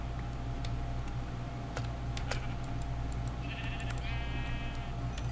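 A sheep in a woodland survival video game gives one short, nasal bleat partway through. Light keyboard clicks sound over a steady background hum.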